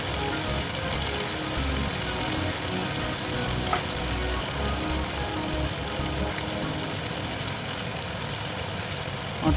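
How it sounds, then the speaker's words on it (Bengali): Cauliflower and peas frying in a pan, giving a steady dense sizzle that runs continuously and fairly loud, with faint scraping of stirring and no talking. "নেড়ে চেড়ে আমি ভাজা ভাজা মতো করছি"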